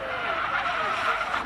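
Tires squeal loudly and continuously as a 2.3-ton electric BMW i5 M60 is driven hard at a hill climb, a sustained skidding screech with engine-free whine beneath.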